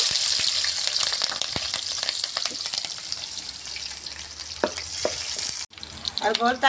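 Chopped onion and green chilli pieces fry in hot oil with a loud, steady sizzle and occasional stirring taps; the hiss cuts off abruptly near the end, followed by brief clattering.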